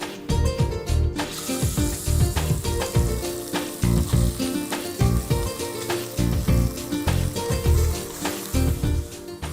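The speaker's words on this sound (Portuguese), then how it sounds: "vou colocar os pedaços de frango." Chicken pieces sizzling in a little cooking oil in a hot pan, a loud continuous fry with bursts of crackle and occasional stirring clatter, no voices.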